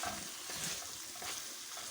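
Eggplant curry is stirred as it fries in a pan, giving a faint, continuous sizzle mixed with soft scraping, and no voices can be heard.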